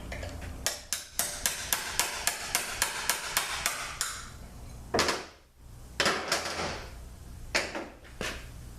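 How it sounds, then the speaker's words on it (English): A hammer knocks a seal out of a ZF8HP70 automatic transmission, a steady run of about a dozen sharp metallic taps followed by a few heavier, spaced blows, close and loud with no talking. "So we're going to knock that seal out."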